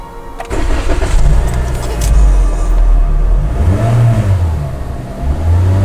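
A car engine cranks and catches, then revs hard and drops back in loud, close surges that rise and fall over a steady running rumble.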